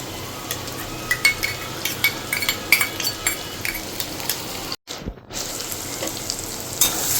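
Ginger paste sizzles and fries with mutton in a pan while a utensil stirs it, with repeated scraping clinks over a steady sizzle and a brief gap partway through.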